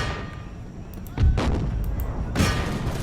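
Artillery and musket volleys in the Imperial Splendour game on a Russian campaign: two heavy booming volleys roughly a second apart, the second louder and crackling, over a steady battlefield din.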